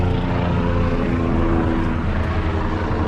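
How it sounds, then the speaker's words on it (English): A helicopter flies overhead, its loud, steady rotor and engine drone filling the air without a break, heard during street scrapping. "Helicopter, helicopter."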